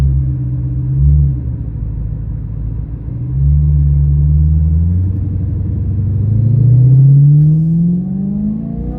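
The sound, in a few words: BMW E92 M3 Valvetronic exhaust soft burble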